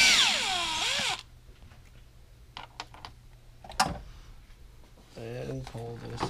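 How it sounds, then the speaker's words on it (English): A power drill running in brief bursts to back out screws on a Land Rover Discovery Sport during an air intake installation, loud whirring at the start, then short tool sounds and clicks between pauses. "get your drill with the drill bit on it and take off the 4 screws"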